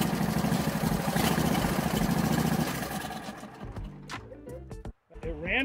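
An Elektra bumper-car go-kart engine runs smooth and quiet with a steady, close hum, then drops off partway through, leaving scattered clatter, brief tones and a short silent gap.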